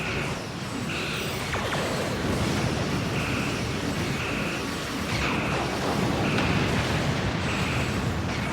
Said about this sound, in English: Explosion nearly got me.